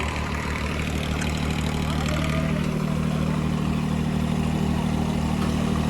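A Swaraj tractor hitched to a 16-foot trolley strains while stuck, its engine holding a steady, loud, low drone throughout.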